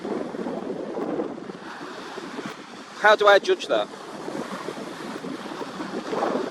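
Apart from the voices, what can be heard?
sea waves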